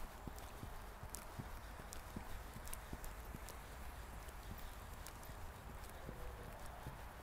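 A young horse's hooves clip-clop steadily on firm ground in an even walking rhythm, fairly close, with faint background hiss and almost no talk.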